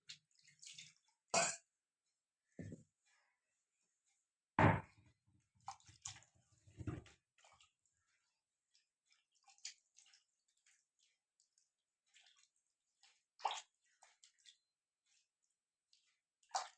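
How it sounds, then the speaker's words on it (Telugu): Water poured over a stone mortar and grinding stone as they are rinsed, giving faint, scattered splashes and drips with long quiet gaps between them and a few brief louder pours. "ఇలా కొన్ని నీళ్ళు పోసుకొని రోల్ని మరియు రోటి బండిని రెండింటిని అయితే శుభ్రంగా కడుక్కునేసేయాలి"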